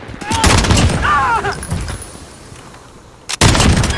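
An MC34 light machine gun in Call of Duty: Modern Warfare fires rapid, loud automatic bursts, falls briefly quiet, then opens up again, with a voice speaking over the early shots.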